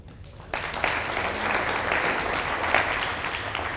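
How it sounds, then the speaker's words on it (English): Audience at a State of the City 2023 event bursts into steady applause after a brief quiet opening, a dense wash of clapping that holds strong and fairly close for several seconds. "Give him an applause, please, so that he knows that he is recognized."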